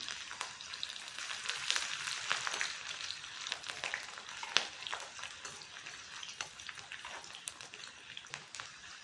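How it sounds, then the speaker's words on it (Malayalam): Garlic and ginger fry in oil alongside spluttering mustard seeds, a soft, steady crackling sizzle dotted with quick sharp pops, fairly faint and close. "ഇപ്പോൾ കടുക് പൊട്ടി വന്നിട്ടുണ്ട്. നമുക്കതിലേക്ക് എടുത്ത് വയ്ക്കുന്ന വെളുത്തുള്ളി, ഇഞ്ചി"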